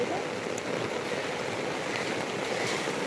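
Dirty rainwater pouring down street steps during a downpour in Bilkha, a steady rushing wash close by, broad and continuous with no break across the moment.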